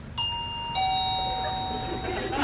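A two-tone doorbell chimes in a Chilean TV comedy household, a bright ding followed by a lower dong with ringing harmonics, clear and close over faint background noise.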